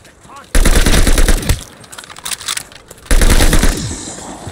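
Automatic gunfire in Call of Duty Vanguard Zombies, two loud sustained bursts of rapid shots separated by a quieter gap with game effects and a brief voice.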